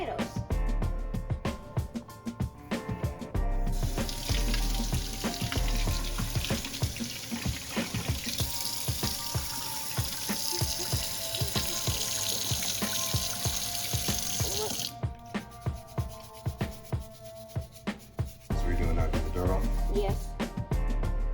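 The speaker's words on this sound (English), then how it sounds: "So first, we need to wash our potatoes." Potatoes washed under a running tap in a sink, a loud steady stream of water with rubbing and splashing; the flow stops briefly then resumes, and a voice talks at moments over it.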